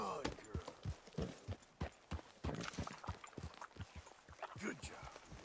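A ridden horse in Red Dead Redemption 2 keeps up a steady clip-clop of hooves, close and rhythmic throughout, with people talking over it.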